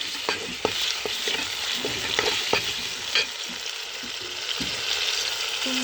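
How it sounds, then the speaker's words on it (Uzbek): Finely chopped tomato and vegetables sizzling in hot oil for dolma, a steady close frying hiss broken by a few stirring scrapes, with no talk. "maydalab to'g'rab sovuramiz."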